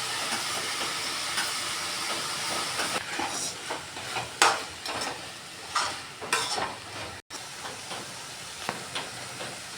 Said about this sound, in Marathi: वाल पण घालायचे आपण फोडणीला